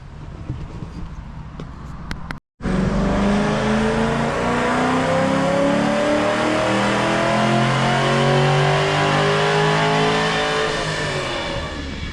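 Car engine revving hard on a dyno inside a tuning shop, loud sustained rising and falling roar heard from nearby after a brief cut.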